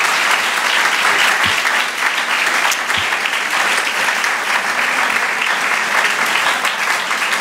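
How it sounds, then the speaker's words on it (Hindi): A church congregation applauds loudly and continuously during a Christmas sermon, dense clapping sustained throughout with no speech over it. "आए यीशु के लिए जोरदार तालियां"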